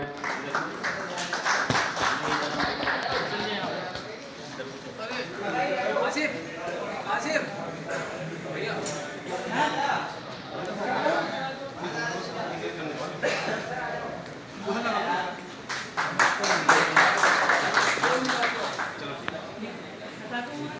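A crowd at a DJ association gathering in Muzaffarnagar claps over someone talking through a loudspeaker. The scattered applause swells into a denser burst near the end.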